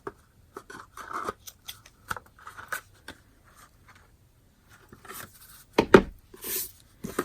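Scissors snip ribbon on a paper envelope punch board box in a run of short, crisp, close cuts separated by quiet gaps, with paper rustling and a louder handling burst near the end.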